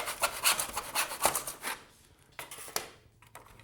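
Hand saw cutting a piece of wood at 90 degrees in a miter box, a rapid run of close, rasping back-and-forth strokes that slow to a few scattered rubs and knocks as the cut finishes.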